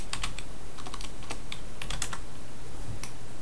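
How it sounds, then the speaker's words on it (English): Keys clatter on a computer keyboard as a short command is typed, a run of quick, close, irregular clicks with brief pauses and no speech. "go into the command shell by typing cmd"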